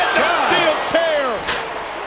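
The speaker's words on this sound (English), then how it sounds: "The chair hammering the forehead of Khali right down into the steel" A steel chair slams into wrestler Great Khali's head during a pro wrestling match. The impact is loud and sharp and comes through over a roaring arena crowd and an excited commentator, with further smacks in quick succession.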